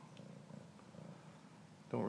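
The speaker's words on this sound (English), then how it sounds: "Do you ever stop purring, Lionel?" A kitten purrs close to the microphone in a soft, steady rhythmic rumble that stays faint and continuous, then a louder voice cuts in at the very end.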